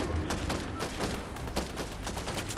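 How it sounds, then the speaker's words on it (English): Rapid bursts of automatic shotgun fire in a video game, a dense run of blasts packed close together and steady in loudness throughout. "Here's an auto shotgun."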